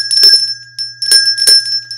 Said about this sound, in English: So I've got my Santa bell.